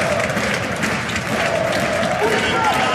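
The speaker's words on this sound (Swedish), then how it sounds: "Och då är det August Erlingmark som ska få applåder också" A stadium crowd applauds a substituted footballer at an IFK Göteborg versus AIK Allsvenskan match, a broad steady roar of clapping and crowd noise with a commentator speaking over it.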